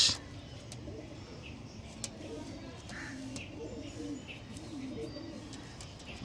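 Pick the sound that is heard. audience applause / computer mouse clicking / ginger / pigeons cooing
pigeons cooing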